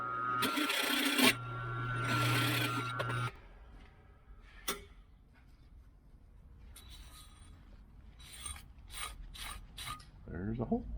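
A power tool whirs loudly in two bursts while making a hole in a custom aluminum fan shroud for a fourth-generation Camaro, followed by quieter rasping, scraping and handling noises and a few sharp clicks.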